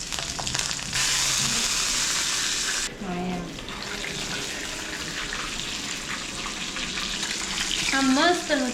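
Hot oil crackles and sizzles in a pan while a tadka tempering fries, starting as a loud broadband hiss. Softer stirring and kitchen noise follow, with brief voice-like tones near the end.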